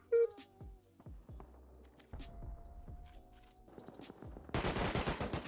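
Gunfire in the survival video game Rust: scattered single shots and short clicky bursts, then a dense, loud volley of rapid fire crackling in the final second, with a faint tonal game cue running underneath.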